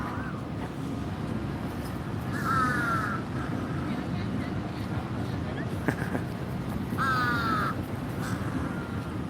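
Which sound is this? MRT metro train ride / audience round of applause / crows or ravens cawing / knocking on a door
crows or ravens cawing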